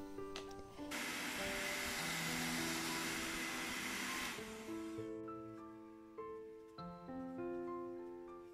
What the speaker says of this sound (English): dry it with a hairdryer